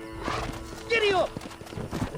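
A horse ridden in the western video game Red Dead Redemption gives a short neigh with hoof clatter beneath, while a voice calls out briefly.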